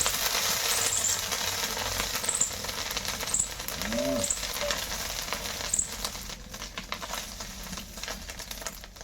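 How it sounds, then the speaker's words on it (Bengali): Whole garam masala and dried red chillies crackle in hot oil left over from frying fish, a loud continuous sizzle with scattered pops and stirring, recorded close. "মাছ ভাজা তেলেই ফোড়ন দেবো ফোড়ন নিয়েছি গোটা গরম মশলা আর শুকনো লঙ্কা"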